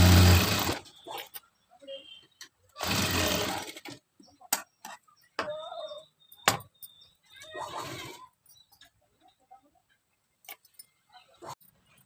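A sewing machine stitches a blouse lining in two short bursts of running, followed by sparse clicks and handling noises in a quiet room.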